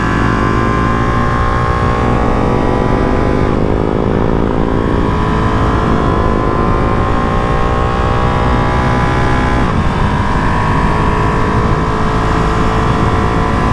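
A 2023 limited-edition Ducati Panigale V2 Troy Bayliss motorcycle cruises on a freeway, its engine droning loud and close without a break under heavy wind rush, with the pitch rising and shifting as it moves through the revs.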